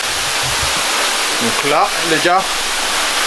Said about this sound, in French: On est en dessous de la cascade, c'est ouf.